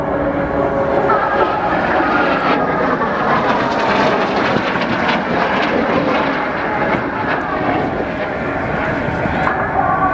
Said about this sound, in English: as he rolls the aircraft nice and slowly